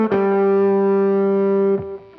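Slow sweep-picked lick on a distorted electric guitar: a note picked at the start rings steadily for nearly two seconds before a quick final pick and fade, played alone.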